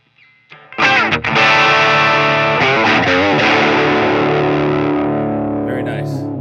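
Electric guitar, apparently a Fender Vintera '60s model, played through a Line 6 POD Express with dirty, Klon-style overdrive: a loud strummed chord rings out and sustains with a gritty, effect-laden tone, no one talking.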